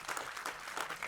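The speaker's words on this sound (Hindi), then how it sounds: "हाँ तालियां तालियां तालियां" A brief, quiet patter of audience clapping rises and falls in short bursts at a song launch event.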